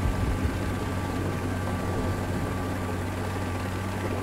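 A helicopter in Rising Storm 2: Vietnam gives off a steady, droning engine and rotor hum with a constant low tone, loud and unbroken throughout.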